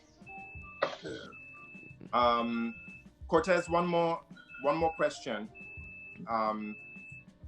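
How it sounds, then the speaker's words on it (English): Steady electronic beeping repeats faintly in the background of someone at work, a thin tone recurring under several people talking. "There's beeping happening in somebody's background."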